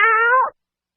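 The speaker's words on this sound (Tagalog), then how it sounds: "This is a sound of a cat." A single clear cat meow, loud and close, lasting about half a second before cutting to silence.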